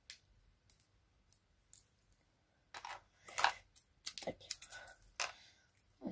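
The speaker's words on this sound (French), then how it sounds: "C'est efficace avec des ciseaux quand même." Scissors snip through thin strands of 3D pen plastic in a series of short, sharp clicks, fairly close and irregular, with quiet gaps between bursts.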